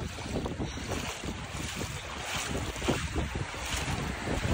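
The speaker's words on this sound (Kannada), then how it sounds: "ಇಲ್ಲಿ ಇಲ್ಲಿ ಹೆಂಗ್ ಬರ್ತಾ ಇದೆ ನೋಡಿ, ಅಲೆ ಬರ್ತಾ ಇದೆ" Floodwater waves during heavy rain in Dubai, a continuous churning wash of water with gusty wind buffeting the microphone, no talk.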